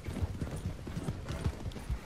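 Horse hooves clip-clop at a steady walking rhythm in the Western video game Red Dead Redemption 2, soft and mid-distance over faint background noise.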